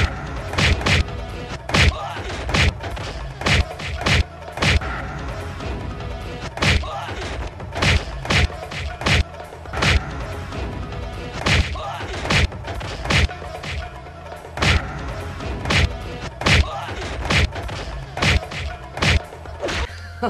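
Movie fight beating with loud, repeated blows and heavy thuds landing in a steady pounding rhythm, dense and forceful throughout with no clear talking over it.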